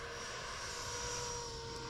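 An E-Flite Viper 90mm electric ducted-fan RC jet passes overhead, a steady loud whooshing whine with a sharp high tone, sustained for a couple of seconds with no voices.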